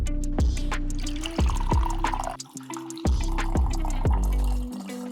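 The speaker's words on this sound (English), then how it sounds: "Pour your coffee about half full." Brewed coffee poured into a cup until about half full, a steady liquid stream with splashy drips, heard alone and close with no talking.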